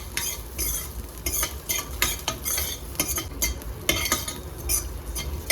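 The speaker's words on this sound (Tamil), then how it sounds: "இது எல்லாமே லைட்டாக, ரொம்ப லைட்டாக ரோஸ்ட் பண்ணால் போதும்." Ingredients for a vegetable kurma are lightly roasted in a pan while a utensil stirs and scrapes against it, giving repeated close scraping strokes over a faint sizzle, with no talk.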